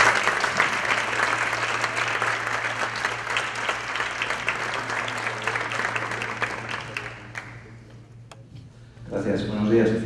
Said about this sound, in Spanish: Con ese aplauso recibimos al doctor Humberto López.